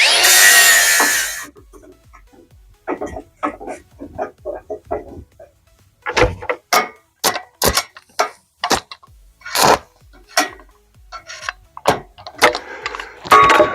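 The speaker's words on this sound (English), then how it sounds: "I have to get grinder and clean that up" Angle grinder used to clean up metal on a boat trailer: after a loud opening burst of whining grind, short sharp bursts and clanks of metal work come and go in an uneven rhythm, close by, with no talking.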